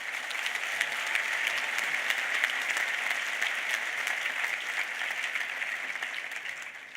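Sustained applause from an audience at the MIT President's Convocation, steady and dense clapping from a large crowd welcoming Professor Kristala Prather, with no voices over it.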